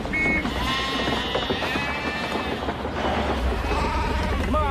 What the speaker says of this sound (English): What the hell are these sheep doing here?